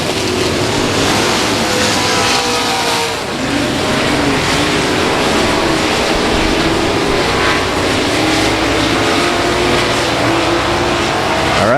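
Race cars roar around South Texas Speedway, with the number 15 car running third among the fast leaders; a dense, steady engine drone holds loud and close across the whole stretch without a break.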